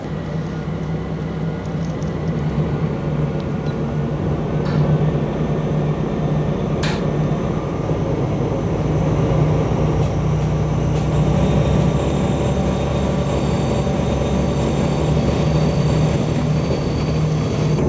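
A steady, loud low rumble of a train leaving a station on the Grenoble–Veynes Alpine line, with a constant engine drone and a brief sharp click partway through, no voices.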